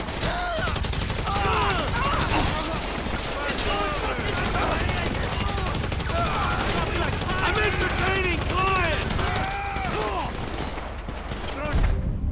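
AK rifle gunfire in the video game GTA 5, with dense rapid bursts of shots forming a steady fusillade throughout, under talk and other game sounds.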